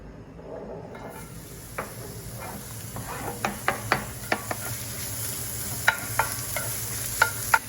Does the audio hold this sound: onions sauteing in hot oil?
yes